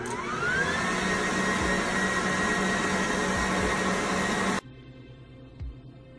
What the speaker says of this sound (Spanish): seguimos batiendo